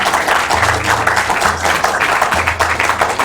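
A studio audience at a school quiz show applauding the St. Thomas Aquinas contestants, a dense sustained clapping that fills the room evenly over a low electrical hum.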